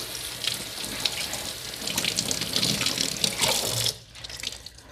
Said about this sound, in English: I'm gonna run it under the sink real quick and kind of rinse off